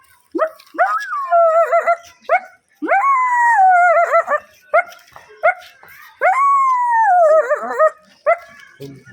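A person imitates a dog, giving a series of howls and yips in drawn-out, wavering calls with short breaks between them.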